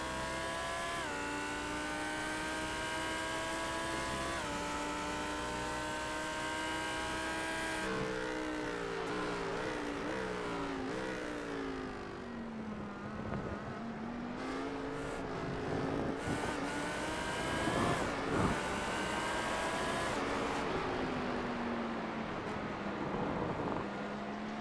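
Porsche race car engine in the iRacing video game at Fuji, a continuous high-revving whine that climbs and drops through gear changes, steady and loud throughout with no voices.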